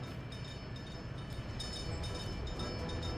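A train rolls through a rail network in the city-building game Workers & Resources, a steady broadband rumble with faint high clatter that holds level throughout, with no talking.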